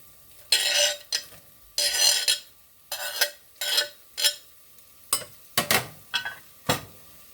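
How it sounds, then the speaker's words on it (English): Ham and onion cooking in a teaspoon of olive oil in a pot, with repeated loud bursts of stirring and scraping over a soft sizzle, close by and with no talk. "I'm going to put about a teaspoon of olive oil in the pot, and I'm going to put my ham in, let that cook, and drop in my onion"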